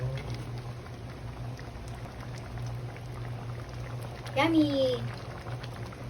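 Alugbati (Malabar spinach) boils in a pot with soft, continuous bubbling and a low hum, briefly interrupted by a voice speaking.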